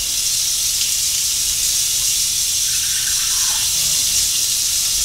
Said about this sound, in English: I'm going to wash my face off. Just wash it all off.